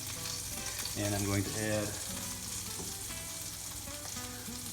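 A hot pan with olive oil and butter sizzles steadily on the heat, a constant close crackling hiss, while a person talks briefly over it.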